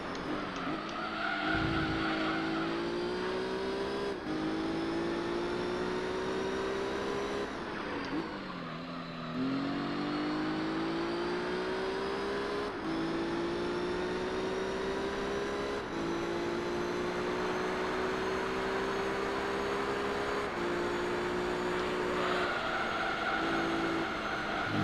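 A race car in Gran Turismo 3 driven hard through a career-mode race, its engine droning steadily with rising and falling revs through gear changes and tire squeal in the corners, loud and continuous without voices.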